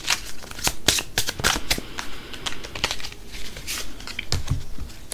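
Tarot cards being shuffled by hand: a steady run of crisp riffling snaps and soft flutters, close and fairly loud, continuing throughout without talk.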